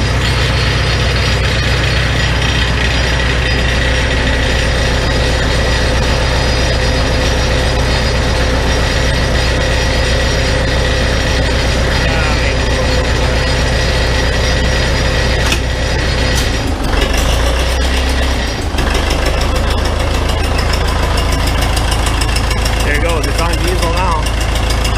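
A Farmall 450 diesel tractor engine runs with a loud, steady low rumble and a dense mechanical clatter that continues throughout, briefly changing pitch partway through, close to the microphone.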